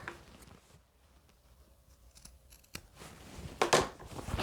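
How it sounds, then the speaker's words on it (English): Scissors snip through the fabric corners of a pieced cathedral window pillow, giving a few quiet cuts followed by a louder, close burst of snipping near the end. "So it does help to snip those corners."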